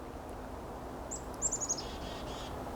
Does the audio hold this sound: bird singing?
yes